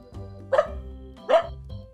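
A man imitates a dog barking, giving two short loud woofs close to the mic, with low humming vocal tones around them.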